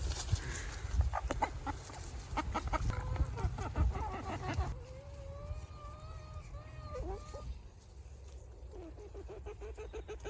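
Backyard chickens clucking and calling while being fed damaged, chewed figs, with several close birds giving short clucks and rising trills, some rustling early on, and a quieter stretch toward the end.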